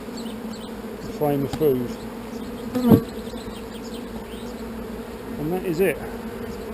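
An artificial swarm of honeybees buzzes inside a hive, a steady close drone with louder passing buzzes of individual bees swelling and fading, while a person talks over it.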